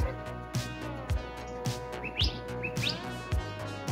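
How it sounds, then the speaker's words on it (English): A bird chirps in short, repeated calls in the desert during monsoon season, over a steady mechanical hum with rhythmic low thumps, the calls faint to moderate and somewhat distant. "Do you hear that bird?"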